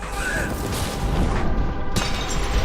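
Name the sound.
missile explosion in video game Severed Steel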